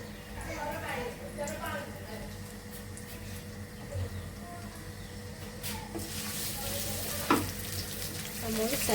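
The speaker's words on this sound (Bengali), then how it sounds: "পেঁয়াজ দিয়ে কষিয়ে একটু ভেজে নিচ্ছি" Chopped onion frying in oil in a home kitchen pan, a steady close sizzle with occasional stirring scrapes, while someone talks over it.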